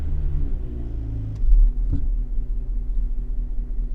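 The engine of a 1991 Honda Civic EF idles roughly with a low, steady rumble up close, and a brief mechanical knock or clunk cuts in partway through.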